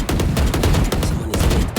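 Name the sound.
gunfire in a video game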